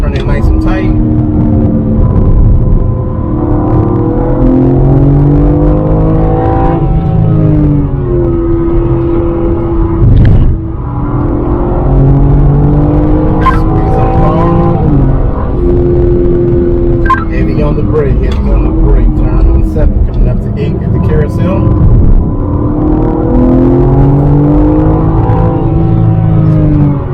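A BMW M3 Competition xDrive on the Road America track drones loudly from inside the cabin, its engine rising and falling through repeated acceleration and gear changes, with someone talking over the engine throughout.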